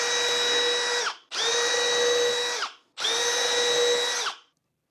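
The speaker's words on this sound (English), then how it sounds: "Now what we're going to do is drill our holes." A power drill bores holes while building a cheap DIY desk, three loud steady whirring bursts of about a second each, separated by short pauses and ending with the motor winding down.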